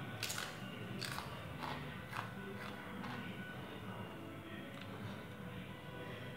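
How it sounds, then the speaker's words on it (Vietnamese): Homemade crispy fried potato chips are crunched in the mouth, about six sharp bites in quick succession, then softer chewing, close and quiet with no talk. "Đó, mình nhai cho mọi người nhìn thấy là giòn lắm."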